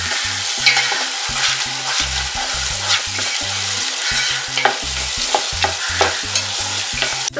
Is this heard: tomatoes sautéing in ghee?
yes